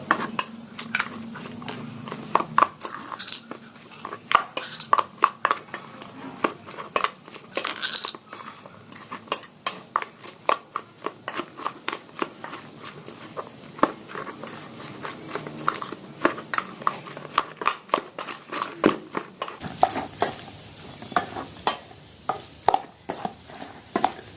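Chopped cabbage being mixed with salt, chili and masala in a bowl for a cabbage omelet: a long run of rapid, rhythmic utensil clinks and scrapes against the bowl, close and fairly loud, with no voices.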